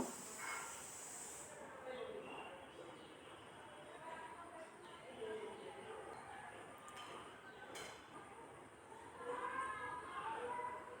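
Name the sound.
chicken pieces frying in hot oil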